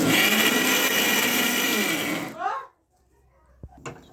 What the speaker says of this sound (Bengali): আমি এটাকে মিক্সি করে নিচ্ছি